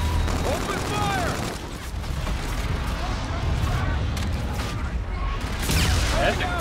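Video game gunfire in Call of Duty Infinite Warfare, a loud wash of automatic shooting and battle noise under overlapping voices, with a few brief whistling tones cutting through.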